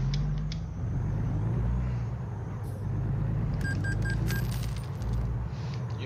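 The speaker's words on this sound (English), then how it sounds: "You also hear that pretty new coin noise" In American Truck Simulator, a short chiming coin jingle of several quick ringing tones sounds over a steady low truck engine drone, with a few faint clinks earlier.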